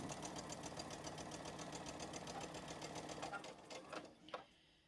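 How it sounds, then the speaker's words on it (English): A sewing machine stitches a quarter-inch seam across log cabin quilt pieces, running as a fast, steady mechanical whir for most of the span, then slowing and stopping near the end with a few faint clicks. "I'm going to slide this under my foot just a tad and stitch it with a 1/4 inch seam"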